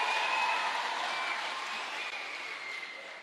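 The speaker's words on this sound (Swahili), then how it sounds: "tukapigia makofi" A crowd claps steadily at a lively gathering, a dense sustained patter that slowly eases off over a few seconds, with no voices rising above it.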